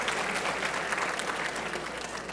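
Audience applause for Mr. Sofer in a synagogue during a Holocaust awareness event, steady dense clapping from a sizable congregation filling the whole moment at even loudness.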